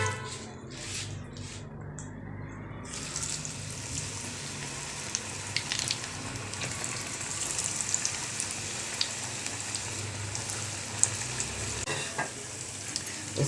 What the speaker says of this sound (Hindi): बस अब इनको अब इसको बस ऐसे ही फ्राई करने डाल देंगे।